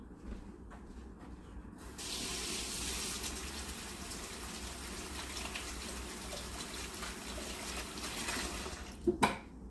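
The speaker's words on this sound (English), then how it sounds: "Just a quick hand wash." Hands being washed under a running kitchen tap give a steady rushing gush of water that starts abruptly, runs for several seconds, then cuts off with a couple of small clunks.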